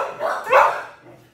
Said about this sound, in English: You're gonna hear some barking, but that's what dogs do.